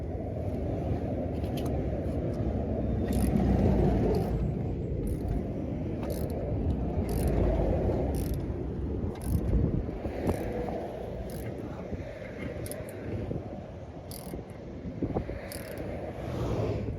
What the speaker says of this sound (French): Trouver les outils qui vont plus vite pour lever le fourgon.